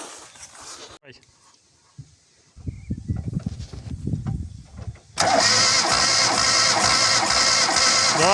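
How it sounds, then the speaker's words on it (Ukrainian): A 2008 ZAZ Slavuta injector car starts: a quiet stretch and some rustling give way to a rough, building crank, then the engine catches and settles into a loud, steady idle close by, with people talking. "Так, вже славуто притягнули, зараз будемо її на старт"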